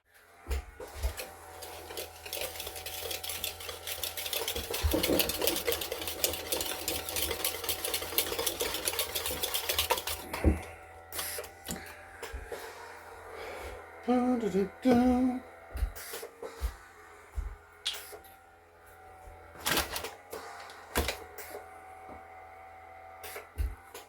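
Zucchini bread batter with brown sugar is mixed, most likely with an electric mixer, a steady close whirring drone for about ten seconds, followed by scattered clanks and knocks of utensils and bowl with no talk.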